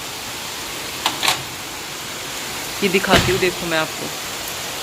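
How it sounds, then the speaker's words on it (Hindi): Heavy rain pours down steadily under dark clouds, a dense constant hiss filling the background while someone talks briefly over it. "कितनी तेज़ वाली बारिश हो रही है।"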